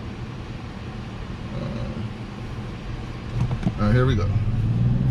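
A 2025 Mazda CX-70 or 2024 Mazda CX-90 SUV pulls away for a 0 to 60 run, its engine note rising from a steady cabin hum to a louder, climbing drone near the end, with a voice speaking briefly over it.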